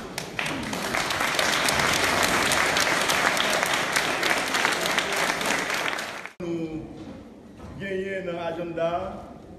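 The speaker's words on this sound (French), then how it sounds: "On nous donne un gros applaudissement pour le Seigneur." Dense, sustained applause from a church congregation fills a Baptist tabernacle for several seconds, then cuts off abruptly and a voice takes over speaking.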